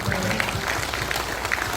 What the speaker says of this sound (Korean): 박수 한번 크게 쳐주십시오